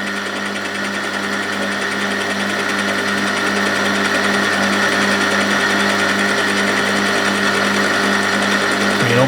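A metal lathe turns down a transmission part, giving a continuous, loud, even mechanical hum with steady tonal whine and no pauses.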